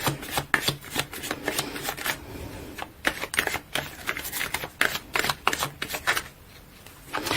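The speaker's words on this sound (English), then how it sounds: "So let's pull a few cards to clarify situation from Gildred." Tarot cards shuffled and pulled from a deck during a love reading, giving a run of sharp, close riffling and slapping bursts with brief pauses between them, no voice over them.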